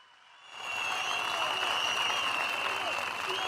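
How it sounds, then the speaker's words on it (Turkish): Audience at an outdoor political rally for Özgür Özel bursts into applause after a quiet start, with sustained, dense clapping continuing to the end. "Sağ olun siz de beni alkışlıyorsunuz."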